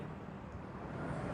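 Road traffic rolls along Shaw Boulevard on a Sunday after Holy Week as a steady, moderately quiet wash of passing cars and engines, continuous and without distinct individual vehicles.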